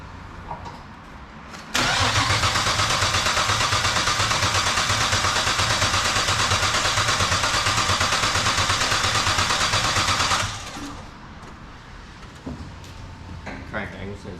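A car engine is cranked for its first start after a head gasket replacement: a long, loud steady whir of the starter spinning that cuts off abruptly, leaving quieter shop sounds and people talking.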